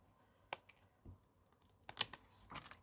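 Craft material being cut off, heard as a few sharp snips and clicks spaced across the moment, close and fairly faint, with no talking.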